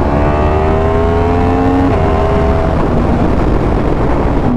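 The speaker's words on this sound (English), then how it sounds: "No handed downshifts." A Yamaha R1 motorcycle engine drones loudly and close, its pitch stepping down through downshifts made without hands, with heavy wind noise throughout.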